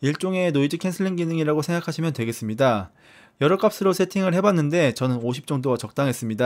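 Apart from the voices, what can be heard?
No everyday noise stands out behind the speech.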